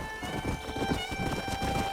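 Horse hooves clip-clop in a steady rhythm while riding in the video game Red Dead Redemption, fairly soft beneath a sustained musical tone.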